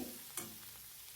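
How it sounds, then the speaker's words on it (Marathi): Red chili powder sautés in hot oil in a pan, a quiet, steady fry with a single brief scrape of a spoon stirring it. "लाल तिखट पण आपल्याला तेलावर छान परतून घ्यायचे"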